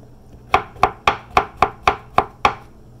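Kitchen knife slicing mushrooms on a cutting board, eight crisp, evenly spaced chops about a third of a second apart, close and clear with no talk.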